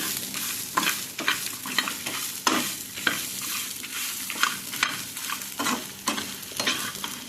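Ingredients for Mangalore-style egg curry sizzle in a pan while being stirred, with repeated rhythmic scraping strokes over a steady frying hiss, close and moderately loud.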